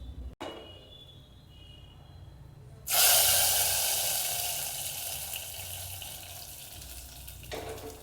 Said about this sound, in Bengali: এবার এটা খিচুড়ির মধ্যে আমরা ঢেলে দেব।